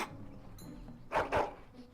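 A dog in the video game The Rise of Creedem gives two quick, sharp barks close together, standing out over faint background game sound.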